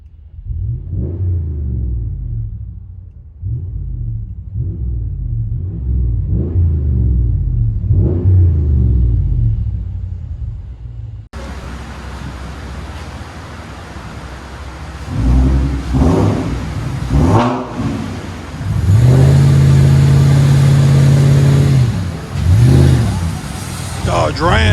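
A 2016 RAM 1500 pickup with the 5.7 Hemi V8 and a Magnaflow Magnapack dual exhaust revs repeatedly, deep rumbling blips heard first muffled and then louder with a sustained low drone, with talking over parts.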